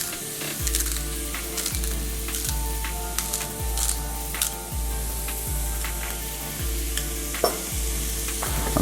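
On a grill, veggie burgers sizzle in a continuous close crackle, broken by a repeating low whoosh about once a second and sharp clicks and scrapes, with no voices.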